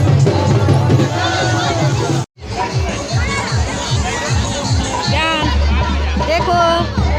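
A dense crowd throngs a Ganga ghat during Chhath Puja in Bihar, with continuous loud chatter, shouts and overlapping voices close around, punctuated by a brief dropout.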